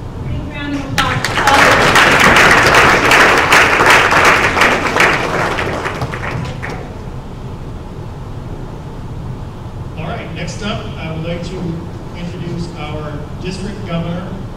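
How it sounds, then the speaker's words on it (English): An audience applauds at the Rotary Club of Woburn centennial celebration, a dense burst of clapping that swells and then tapers off as a voice takes over. "Big round of applause."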